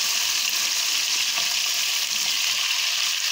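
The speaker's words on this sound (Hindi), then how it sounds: "ऑयल में अच्छी तरह फ्राई करेंगे इसे।" Mutton frying in oil for a street-style karahi gives a loud, steady, close sizzle that runs alone and unbroken, with no talk.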